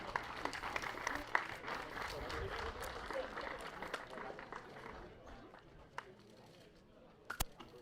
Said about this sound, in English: after huge applause from all the different corners of the track